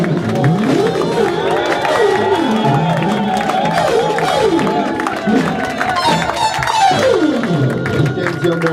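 A church congregation cheers and shouts for Jesus, a loud, continuous crowd roar with whoops and scattered cries filling the room.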